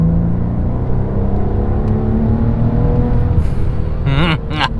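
A 2017 Maserati Quattroporte's engine drones loudly and steadily from inside the car, its revs climbing and wavering toward the end.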